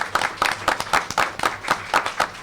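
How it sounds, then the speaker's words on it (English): Audience at a Buchanan city commission candidate forum applauding the five candidates, a steady round of many hands clapping in a close, rhythmic patter that continues throughout. "give these 5 candidates a round of applause"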